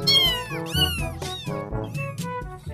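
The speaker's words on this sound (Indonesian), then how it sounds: "Ada seekor kucing ikut teman-teman." A cat meows repeatedly at close range, several rising and falling cries in quick succession, loud and clear with no talking.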